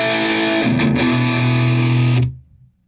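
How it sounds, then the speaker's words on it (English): An electric guitar plays a heavy distorted chord through a Fender Mustang GT 100 amp on a 90s stack preset. The chord rings loud and sustained, then cuts off abruptly into a short fading tail. "Fender ain't known for that distortion like that."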